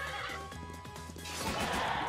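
A horse neighs in a drawn-out whinny in the video game Miitopia, fairly close, over steady ambient background noise.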